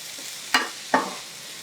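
Spinach being stirred into hot rava appe batter on a tawa, heard as two short scraping strokes over a faint sizzle, fairly quiet with no voices.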